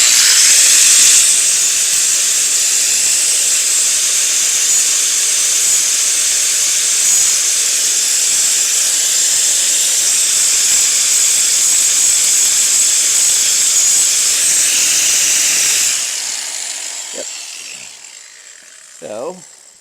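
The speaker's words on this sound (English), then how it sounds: "So now we're just going to grind it just a little bit to get the rest of that bolt off." An angle grinder cutting off the remains of a bolt on a 1985 Volkswagen Cabriolet that sat for ten years: a loud, steady high-pitched grinding whine for about fifteen seconds, then winding down with a few faint clinks.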